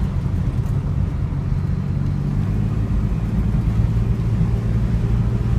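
A 1964 Mercury Comet pulls away hard in first gear, its engine a loud, close, continuous rumbling drone that builds steadily with a deep throaty tone and no voices over it.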